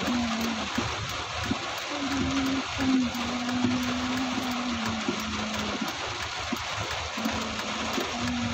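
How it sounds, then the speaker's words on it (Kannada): Rainwater rushing across a flooded flyover in Bangalore, a continuous broad wash of flowing water with a steady engine-like hum running beneath it and no talk. "ನೀರು ಜಾಸ್ತಿ ಆಗ್ತದೆ ಅಂದರೆ ಆ ಕಡೆ ಗಾಡಿಗಳು ಪಾಸ್ ಆಗ್ತಾವಲ್ಲ ಅವಾಗ ಜಾಸ್ತಿ ಬರುತ್ತೆ."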